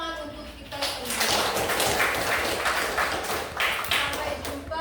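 An audience gives sustained, dense applause at the close of a session, steady and fairly distant, with a few louder claps standing out.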